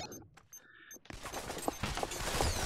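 Gunfire in Pavlov VR begins after a quiet start of faint electronic tones, then a dense, rapid volley of close shots that grows louder and continues to the end.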